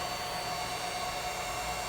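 A hair dryer powered through a 1200 watt PowerJack modified sine wave inverter blows steadily with a loud, even whoosh and a faint tonal whine, no voices.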